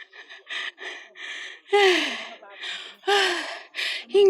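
Heavy, ragged panting from a hiker climbing the Stairway to Heaven mountain trail in Hong Kong: loud gasping breaths in uneven bursts, with a few strained voiced exhales, close to the microphone.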